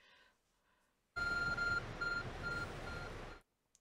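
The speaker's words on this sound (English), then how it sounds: "Your arc phone is beeping." The Arc Phone in Pokemon Legends: Arceus beeps in a short run of repeated electronic tones over a burst of loud hissing game noise lasting a few seconds.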